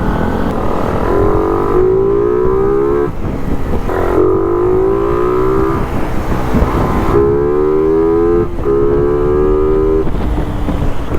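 A Yamaha Raider 150fi motorcycle that had been smoking, just after an engine refresh, revs loud and close while ridden, its pitch climbing through gear after gear in repeated accelerating sweeps.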